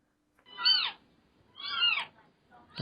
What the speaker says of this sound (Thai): ถ้าสังเกตดีก็จะเห็นว่าเสียงของลูกแมวเนี่ยมีหลายตัวนะครับ